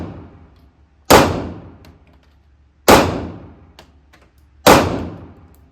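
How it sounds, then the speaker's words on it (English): Three sharp gunshots spaced about two seconds apart, from Glock 43x and Taurus GX4 pistols at a shooting range, each a loud crack with a short decaying tail. "we just got done shooting the GX4 and the Glock 43x"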